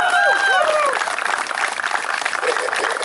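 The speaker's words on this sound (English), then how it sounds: "Everybody, round of applause for Jim Bolin." A small-town crowd in Casey, Illinois, gives a round of applause, a brief burst of clapping with a few whoops riding on top at the start, continuing as steady clapping.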